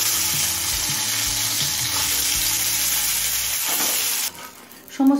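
Slices of pointed gourd (potol) shallow-frying in oil, a loud steady sizzle with occasional clinks, then a sudden drop near the end as a brief tap-water splash takes over.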